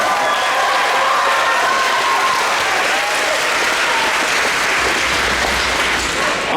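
A middle school band spring concert audience claps in a steady, dense burst of applause that holds at full strength, with faint crowd murmur and a brief cheer mixed into the clapping.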